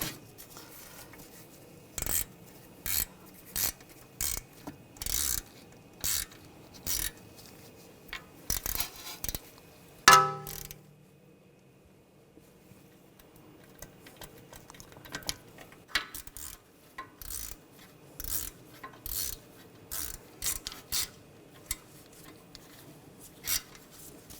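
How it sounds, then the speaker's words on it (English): A hand ratchet tightens the wheel hub bolts on a 2007-2013 BMW X5 during a front wheel bearing and hub assembly replacement, giving repeated short bursts of metallic clicking with brief pauses between them and a sharper clank midway. "Snug those down and tighten these ones down."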